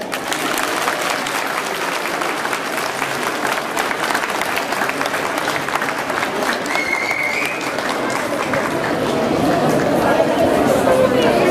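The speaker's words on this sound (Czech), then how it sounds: "Podpoříme určitě potleskem všechny naše tanečníky, tanečnice." An audience applauds dancers and aerobics teams at a dance event, a continuous wash of clapping from a sizeable crowd with some chatter mixed in, swelling slightly toward the end.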